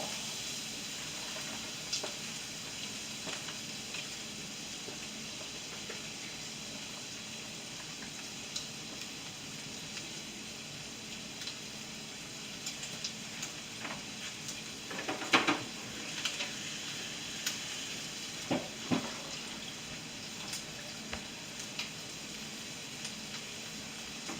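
Corn sizzling steadily in a hot pan, a soft continuous hiss with a few faint crackles and spoon scrapes, no voices.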